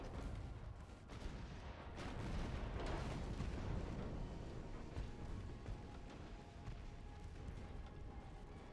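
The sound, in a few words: naval guns firing, from the video game Ultimate Admiral: Dreadnoughts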